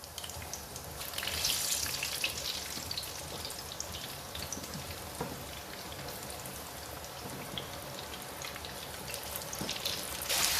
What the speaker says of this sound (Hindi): ये अब इसको हम उठा के डालते हैं ऑयल के अंदर। ऑयल हमारा गर्म है